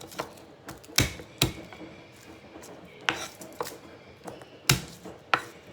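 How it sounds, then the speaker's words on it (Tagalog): A knife finely chopping chicken breast on a board: irregular, crisp chops, close and fairly loud, with short pauses between bursts over a quiet background. "Yung breast chicken, tagtarin ko rin ng pino yan."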